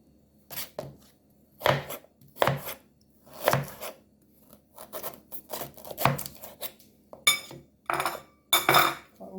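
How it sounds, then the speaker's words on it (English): Ginger root being broken and cracked into pieces by hand in a home kitchen while making Jamaican sorrel drink, giving about a dozen sharp, close snapping and crunching bursts at an irregular pace with quiet gaps between them. "let's bust my ginger into any piece you can bust into."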